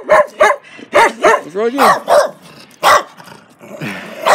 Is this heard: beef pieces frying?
no